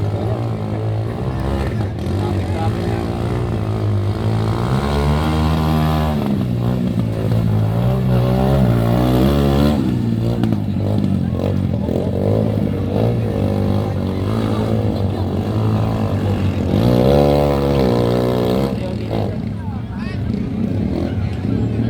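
Tricycle motorcycle engines rev and labor during an off-road race, rising and falling in pitch, loud and continuous, with crowd chatter and shouting mixed in throughout.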